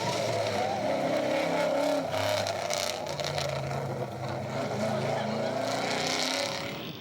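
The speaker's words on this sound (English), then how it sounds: "Jerry Churchill never lifts as the big Impala gets out of shape on that crest" Chevrolet Impala rally car at full throttle over a crest on a Targa Newfoundland 2004 stage, a loud, rough V8 roar sustained close by and fading slightly at the end, with a voice over it.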